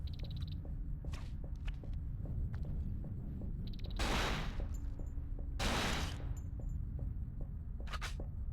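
Gunshots fired at hanging corpses in the survival horror game Cold Fear: two loud, sharp bursts of gunfire stand out over a low ambient hum, with faint clicks and scattered smaller impacts between them and no talking.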